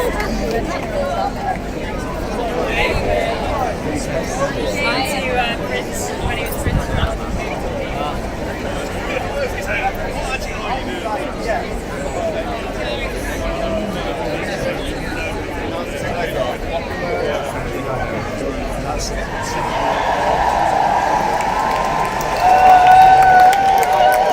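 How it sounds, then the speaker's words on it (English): A protest crowd gathers outside the Reform UK headquarters in London, producing a continuous dense murmur of voices and chatter with occasional clapping, heard from within the crowd, and a louder swell near the end. "So that's a crowd here."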